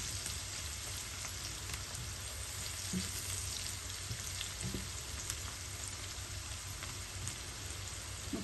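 Onions fry in a pan for a bitter gourd dish, a steady soft sizzle with occasional light stirring taps, no talking.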